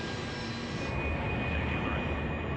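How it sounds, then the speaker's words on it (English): The turbofan engines of the largest aircraft in the US military are revved while the plane stands still with brakes on, a loud, steady, broadband roar and whine that builds slightly, close and continuous, with no voices. "And now the pilots rev the engines while standing still."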